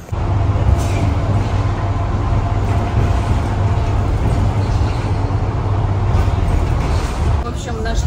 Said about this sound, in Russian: Оказывается, это автобус, который едет очень быстро по своей выделенной полосе.